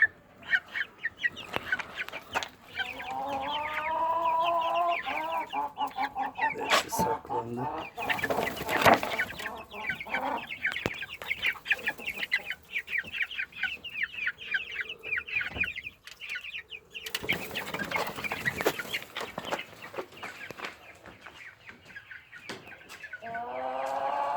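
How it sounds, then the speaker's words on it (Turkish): Many Indio Gigante chicks peep and cheep continuously close by, with occasional clucks and scuffling noises. "Göründüğü gibi Indio Gigante civcivlerimiz"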